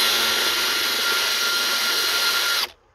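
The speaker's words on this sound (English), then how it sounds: "all I want to do is loosen it enough where I could use my power tool" A power tool loosens a bolt on a 2003 Ford Expedition XLT while the fuse box is being replaced, a loud, steady high whir running close up for under three seconds before stopping abruptly.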